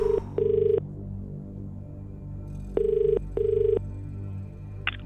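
A telephone rings on an outgoing call, with two paired bursts of ring tone separated by a pause, loud and clear over a low steady hum.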